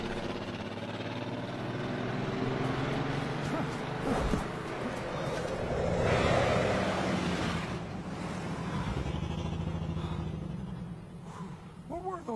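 Cars pass by with a broad engine rumble that swells and fades, heard in the animated film Thumbelina, while voices talk over the traffic.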